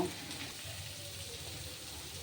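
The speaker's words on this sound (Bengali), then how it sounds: "দিয়ে লবণ হলুদ দিয়ে সব কটাকে ভালো করে ভেজে নেব" Pumpkin pieces with salt and turmeric frying in a pan, a faint, steady low sizzle with no talk.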